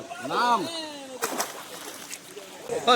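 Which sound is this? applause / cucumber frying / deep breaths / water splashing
water splashing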